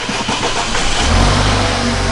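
A wrecked BMW F30 sedan being brought back from a salvage auction cranks and fires up close by, the starter giving way to a steady, loud engine rumble that settles into idle.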